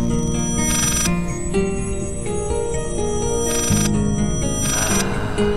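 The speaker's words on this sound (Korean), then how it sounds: "전화벨 소리가 계속 울리는데" A telephone rings insistently in the horror game Layers of Fear, its trilling bursts repeating in a loud electronic pattern over a droning eerie musical backdrop.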